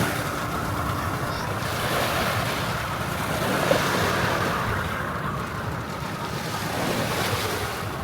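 Sea waves at Alona Beach, Bohol, a steady broad wash of surf with heavy wind rumble against the microphone, continuous and loud with no clear breaks.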